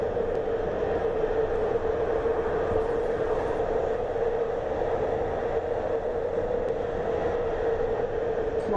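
An MTR Kwun Tong line train running underground between Mong Kok and Whampoa in Hong Kong, a loud, steady rumble and roar of wheels and motors with a constant droning hum throughout.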